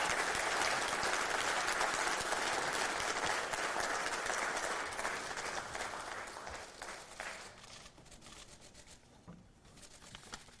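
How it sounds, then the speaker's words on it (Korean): Audience applause welcoming a presidential candidate at a People Power Party lawmakers' meeting, a dense, steady roar of clapping that gradually thins and quiets toward the end. "여러분 모두 박수로 맞이해주시기 바랍니다"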